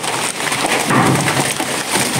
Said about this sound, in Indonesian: Hujan, teman-teman, hujan.